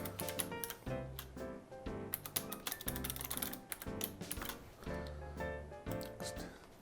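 Password being typed on a computer keyboard, a quick irregular run of close, crisp key clicks in bursts with brief pauses, no voices.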